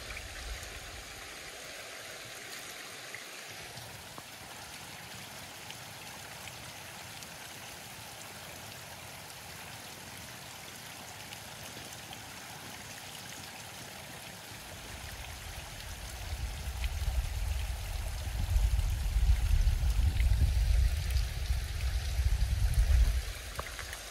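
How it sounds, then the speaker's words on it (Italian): Water streams and trickles out of unstable, waterlogged mountain ground along a road in Valle Maira, a steady close rushing that swells louder and heavier toward the end, with no voices. "Esce acqua da tutte le parti."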